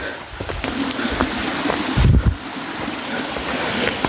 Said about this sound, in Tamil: இங்கே தான் இருக்குது அருவி. தண்ணி ஓடுது.